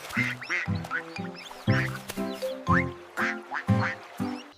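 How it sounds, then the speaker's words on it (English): A mother duck in a children's nursery song quacks in a steady series of about eight nasal calls, each with a layered, harmonic tone, loud and close with short gaps between them. "Mother Duck said quack, quack, quack, quack, quack"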